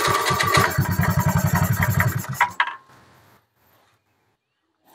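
A carbureted Honda Vario 110 scooter with a new battery cranks on its electric starter, a fast rhythmic whirring churn for about two seconds that catches briefly into a rev, then cuts off, leaving near silence.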